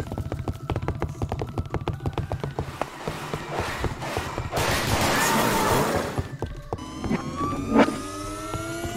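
Turret fire in the game Manufactio, rapid rhythmic mechanical rattling at first, then a harsher noisy burst and a shifting tonal whir, moderately loud with no voices.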